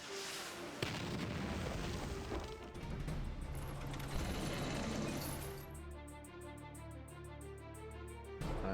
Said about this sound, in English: Tank cannon, blast on both of them.